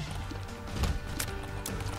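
Horse hooves clip-clop in The Binding of Isaac video game, a few quick sharp clops over a low rumble of background game sound.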